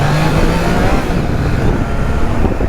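A Triumph Trident 660 motorcycle engine roars loud and close as the rider accelerates hard for a wheelie, a dense, steady, buzzing growl that fills the whole stretch.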